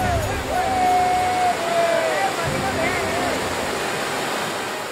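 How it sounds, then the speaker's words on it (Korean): Fierce river rapids rush with broad, steady roaring water noise, loud and continuous, where a tribe's large fishing traps are set on wooden supports; faint whistling tones and distant voices sit above the torrent. "사나운 물살에 버텨낼 재간이 없습니다."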